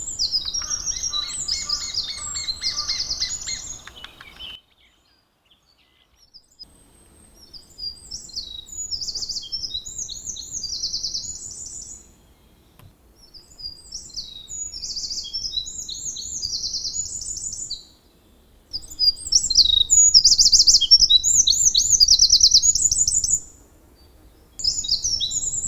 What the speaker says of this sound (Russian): Круглогодично на тропе встречаются синицы разных видов